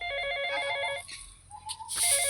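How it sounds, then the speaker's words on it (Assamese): A phone rings nearby with a steady, continuous electronic ringtone melody that carries on alone, without any talk. "ফোনটো বাজিছে কোনোবাই ফোন কৰিছে"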